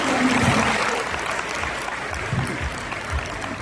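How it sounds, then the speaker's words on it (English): Audience applause closing a Southeast Asia regional academy session on inclusive climate action: a steady, close roar of many hands clapping, with a few low thumps and faint voices mixed in. "A round of applause for a wonderful time"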